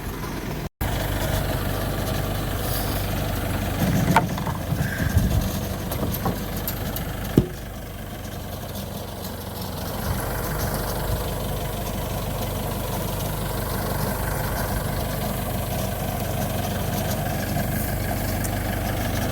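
A machine with a lifting bucket idles steadily nearby, a low even engine rumble running the whole time with a couple of brief clanks early on.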